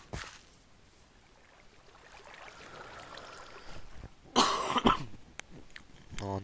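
A person coughs a few times in quick succession, sharp broadband bursts close to the mic over a quiet background, while playing Minecraft.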